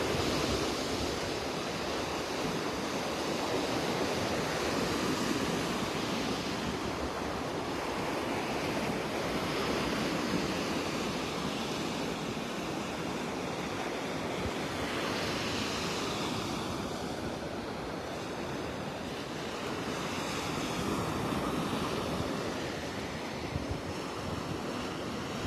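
Waves roll onto a North Naples, Florida beach on a rainy early morning, a continuous broad wash of surf with gentle swells in loudness and some wind buffeting, no voices.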